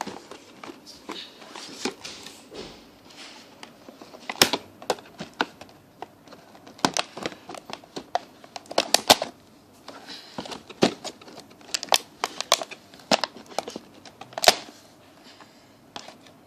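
A part of a dart gun is being cut by hand, with irregular sharp clicks, snaps and scraping bursts scattered through a quiet background, close and unaccompanied by talk.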